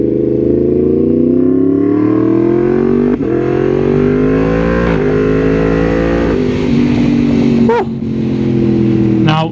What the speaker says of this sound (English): So that is the new exhaust on. And it sounds absolutely lovely.